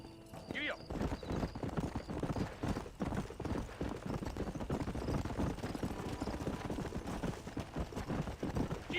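Horse hooves clip-clop steadily in the Red Dead Redemption video game as a rider travels along, with occasional whinnies, a dense mix of game sound and voices talking over the rhythmic trotting throughout.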